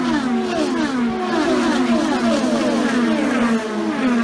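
IndyCar racing cars with Honda or Chevrolet engines scream past one after another, their high-revving notes rising and falling with each pass in a loud, continuous stream.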